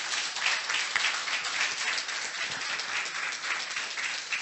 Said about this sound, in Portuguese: Vamos receber o pastor Nilson aplaudindo e glorificando a Deus no nome de Jesus.